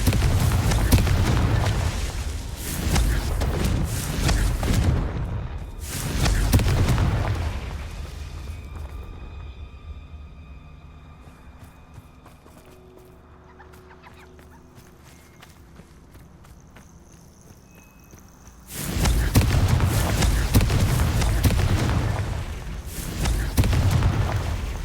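Confringo fire spells burst in Hogwarts Legacy, with heavy booming blasts in dense clusters at the start and again near the end, separated by a quieter stretch of low hum and light tones.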